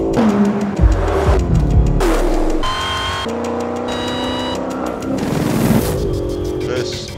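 Aston Martin and Dodge sports cars lapping the Mugello circuit at speed, a loud, steady engine drone with shifting pitch as gears change, overlaid by continuous talking throughout.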